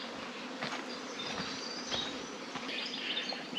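Bees swarming around hives in the roof of a cave in a national park near Jurien Bay produce a continuous close, droning buzz that swells and fades slightly, with faint chirps in the background.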